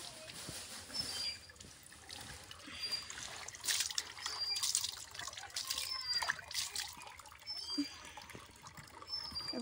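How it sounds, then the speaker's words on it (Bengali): Water from a hand pump running into a bucket: a steady, soft trickle and splash heard close, fairly quiet, with faint background noise throughout. "কলপারে আমি জল ভরার জন্য বালতি পেতে রেখে এসেছিলাম"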